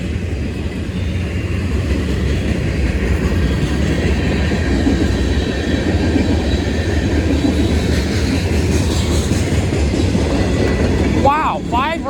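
A Union Pacific mixed freight train rolls past on the rails east of Scott City, Missouri, with a loud, steady, close rumble of cars throughout and a brief high squeal near the end.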